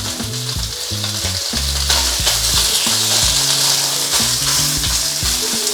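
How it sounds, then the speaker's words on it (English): Beef searing in hot oil in a wok, a loud, steady sizzle and fry crackle running throughout with low clanks and scrapes of metal mixed in, no talking. "Let it sear, don't disturb it any more than you have to."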